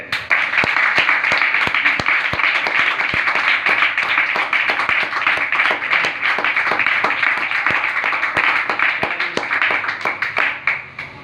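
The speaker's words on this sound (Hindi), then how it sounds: "तहरीरी खुदा बाइबल मुकद्दस के लिए एक बार जोरदार तालियां।" A church congregation claps hard in praise of God and the Holy Bible. Sharp individual claps pile into a dense, steady round that lasts about eleven seconds before tapering at the end.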